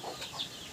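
A chicken gives a quick, faint cluck or two in a short burst, alone with no voices.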